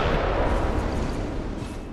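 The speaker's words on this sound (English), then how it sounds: "it is a cannon." Cannon boss fire in the video game Bloodborne: a dense, loud, continuous rumble of booming blasts that stays steady throughout with no voices.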